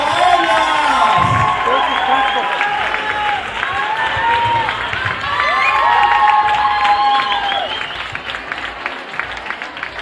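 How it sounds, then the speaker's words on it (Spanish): An audience at a dance show applauds and cheers for a performing group, loud sustained clapping with whoops and shouts, one voice calling over the crowd, fading slightly toward the end. "¡Aplauso a ellas!"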